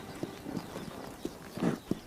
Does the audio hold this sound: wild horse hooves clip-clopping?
yes